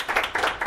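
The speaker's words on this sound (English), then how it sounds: "So you guys give them a round of applause." Short burst of audience clapping at a live tonight-show style event in a city hall, a handful of hands patting in quick uneven rhythm, close and fairly light, lasting under a second.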